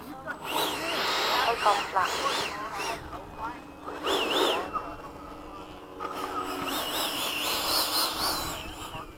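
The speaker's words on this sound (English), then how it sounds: "he's starting up the jet too" Freewing 80mm EDF RC model jet starting up, a whining electric ducted fan rising and falling in several bursts, with people talking at the flying field.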